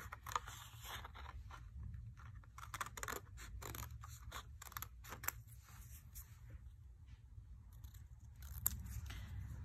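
Scissors cutting paper while making a mixed-media card, a run of close, quiet snips and scratchy rustles in an uneven rhythm, with a low steady hum beneath and no talking.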